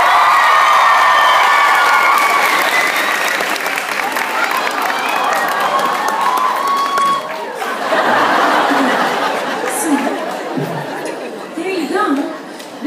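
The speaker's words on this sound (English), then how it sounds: "Give a round of applause." A theatre crowd at a Dublin comedy show bursts into applause and cheering, loud and sustained, with laughter and chatter rising through it before the clapping thins toward the end.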